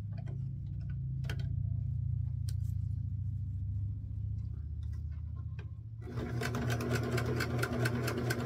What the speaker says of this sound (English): we have the top of our quilt, and we're going to sew it to the bottom.